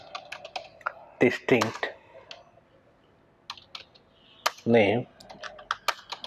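Keys clatter in quick bursts as a MySQL command is typed on a computer keyboard, close and crisp, with a voice speaking briefly between the runs of clicks.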